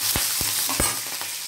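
Green and red chilies frying in hot oil with cashews, a steady close sizzle with a few soft clicks and stirring taps throughout.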